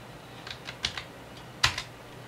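Keystrokes on a computer keyboard entering a password at a Windows 7 login screen, a handful of separate taps spread out unevenly with short pauses, close and fairly quiet, with no talking.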